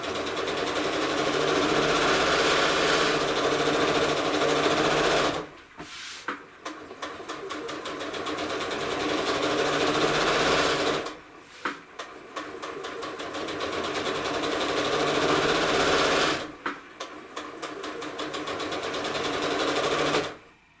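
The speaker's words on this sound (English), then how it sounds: "I'm going to put the other side of my walking foot on the next seam over and start stitching" A sewing machine with a walking foot stitches through quilt layers and batting in three long bursts of rapid, steady whirring, each stopping abruptly with brief pauses of quiet clicks between.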